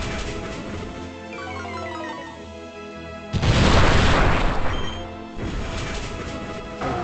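A heavy ground-shaking Bulldoze attack from the Pokemon Z game, a loud rumbling crash that bursts in midway over game music and lasts about two seconds before fading back under the music.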